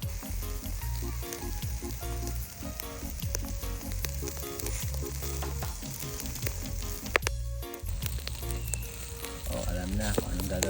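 Chicken legs and pork belly (liempo) sizzle steadily on an outdoor barbecue grill in a park, a continuous close crackle with a rhythmic hum running beneath it throughout.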